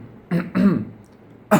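A person demonstrates throat clearing to mimic someone troubled by phlegm, giving three short, harsh rasping bursts with brief pauses between, close and fairly loud.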